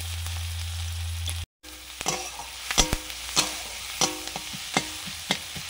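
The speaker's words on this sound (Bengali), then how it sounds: "এবার ঘুগনিতে মশলা দিয়ে ফোড়ন দেব, সর্ষের তেল, পেঁয়াজ কুচি" Onions frying in mustard oil while tempering spices for ghugni, a steady close sizzle with a series of sharp clinks and scrapes from stirring, after a brief cut near the start.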